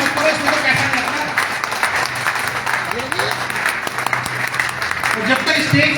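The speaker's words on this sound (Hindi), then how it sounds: "मैं चाहूंगा एक बार जोरदार तालियां बजा दें मौर्या जी की माता जी।" A seminar crowd applauds steadily in a hall, continuous clapping of moderate loudness with some voices and speech murmuring underneath.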